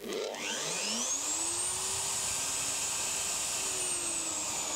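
A Virutex tilting router spins up with a rising whine right after being switched on, then holds a loud, steady, high-pitched motor drone close by.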